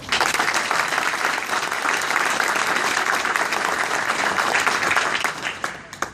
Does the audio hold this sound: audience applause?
yes